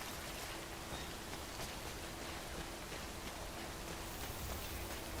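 Steady hiss of Timefall rain pattering in a video game world, a constant broadband wash of drops holding at an even, moderate level throughout with no voices.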